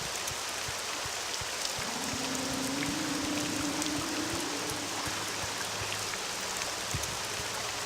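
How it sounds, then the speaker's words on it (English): Steady rain falling across the town of Balmora in the game Morrowind, a dense even hiss throughout with no voices. "Oh, it's raining in Balmora."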